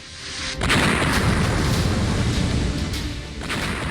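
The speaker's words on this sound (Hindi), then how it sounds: "यूक्रेन के शहर बम गोले की आवाज से गूंज रहे हैं।" A heavy, sustained roar of blasts and rumbling booms from bombing and missile strikes on Lviv, Ukraine, fills the air, loud and continuous, with a sharp burst near the start and another near the end.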